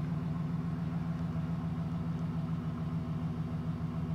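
Chevrolet Silverado truck engine idling steadily with a low, even rumble, close and continuous with no clear rattle or other sound over it.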